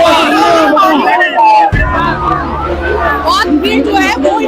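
Crowd noise at a Kolkata Port ward 78 election rally, with many voices shouting and cheering close by and a loud, dense babble that carries throughout, plus a sudden low thump partway through.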